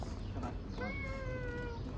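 A cat meows once in a drawn-out, wavering cry on a sunny street in Degla, Maadi where street cats gather, heard over steady outdoor traffic rumble and background noise.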